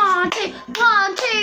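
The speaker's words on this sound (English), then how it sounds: "Come on, everyone. Clap on your hands." Hands clap in a steady beat over a musical backing, with a voice and other voices partly audible, close and fairly loud in a sing-along setting.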